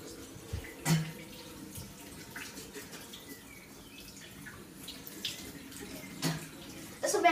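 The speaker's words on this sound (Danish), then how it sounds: "Og så vasker jeg som regel altid mit hoved." Tap water runs steadily at a bathroom sink during hair washing, a soft, continuous splash with a few louder knocks and splashes; a person speaks briefly in Danish.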